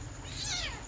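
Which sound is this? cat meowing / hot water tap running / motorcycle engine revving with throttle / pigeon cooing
cat meowing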